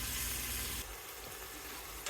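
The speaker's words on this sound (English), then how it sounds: "Add the onions. And we will saute these until they're translucent." Onions sautéing in a pan for potato soup, a steady close sizzle and hiss with a brief louder burst at the start, then a quieter continuous fry.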